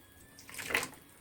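A bathroom tap briefly gushes water into the sink, swelling from near silence into a short splashing burst and fading again within about a second, with no talking.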